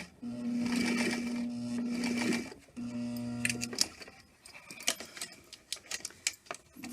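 A sewing machine backstitches over the elastic section of a girl's dress strap, running in two steady whirring bursts with a short pause between, followed by scattered clicks and handling noises.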